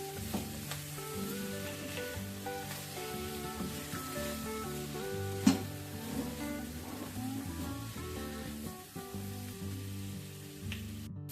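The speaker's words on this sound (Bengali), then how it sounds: "এবার ভালো করে মশলাটাকে কষাবো।" A spice mix with plenty of coriander leaves is sautéed in a pan for cauliflower patties, sizzling and frying steadily throughout, with occasional stirring scrapes and a sharper clatter midway.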